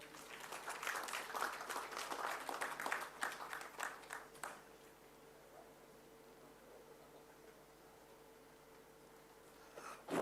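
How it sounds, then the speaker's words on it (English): An audience at a CAPSI Kerala Chapter anniversary event applauds to welcome a speaker, dense clapping for about four and a half seconds that fades to a quiet room hum, then a brief noise at the end. "Let's invite him with a warm round of applause"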